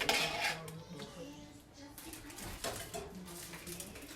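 Pozole rojo is served from a pot into a bowl with metallic clinks and scrapes of a ladle against cookware, the clatter irregular and fairly close within a quiet room.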